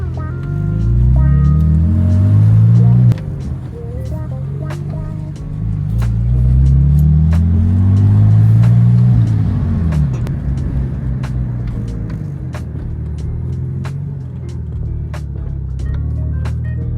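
A Porsche 911 Turbo (996) is driven at night, its engine droning loud and close with repeated rising revs and gear-change dips, under steady road rumble.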